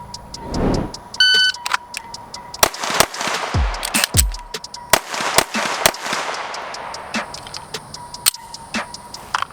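A Sig Sauer P320 AXG pistol fires several loud, sharp shots in a short string with a pause for a reload, each crack ringing out over a background of electronic beeps and shuffling.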